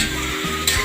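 Sliced upo gourd, tofu and glass noodles stirred in a hot pan, a steady sizzle running throughout with a sharper scrape or clatter near the end.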